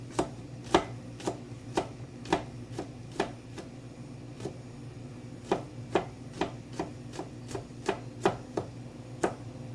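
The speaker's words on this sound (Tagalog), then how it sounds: "So, mag-iiwa tayo ng garlic." Garlic being chopped with a knife on a cutting board, with about twenty crisp, fairly regular taps close by over a low steady background hum and no talk.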